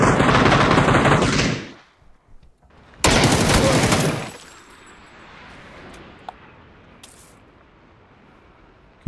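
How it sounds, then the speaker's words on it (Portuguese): Loud bursts of rapid automatic gunfire in the video game PUBG rattle in two long volleys, separated by a pause, then fade to quiet with a few faint clicks. "Que tiro é esse que esse cara deu em mim"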